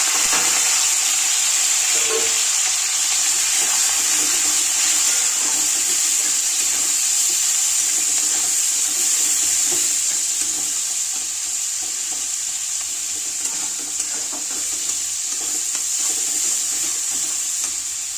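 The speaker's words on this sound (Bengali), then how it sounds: "তারপরে কাঁচা লঙ্কা, পেঁয়াজ, ক্যাপসিকাম এগুলো ভেজে নেব।" Green chilli, onion and capsicum frying in refined oil in a wok, a steady close sizzle with occasional stirring scrapes, continuous throughout with no talk.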